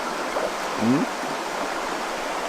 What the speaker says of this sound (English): This river is a blessing, isn't it?